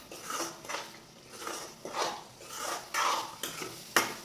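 Spoon scraping and clinking against a pan while spiced dry vegetables (sukhi bhaji) with salt are stirred, in repeated near strokes with a sharper knock near the end, no talk.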